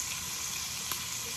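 Garlic and green pepper fry over high heat in a pan, giving a constant close sizzle with one small sharp crackle.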